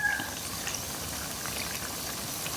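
Pork belly coated in a curry-paste batter sizzles as it fries in hot oil, a steady close crackle and bubbling that goes on throughout with no voices.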